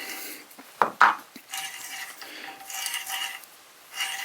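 Metal scraping and rasping from an adjustable hand reamer cutting metal, with two sharp metallic clinks early on, then irregular grinding strokes close by.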